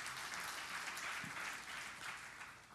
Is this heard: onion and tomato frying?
no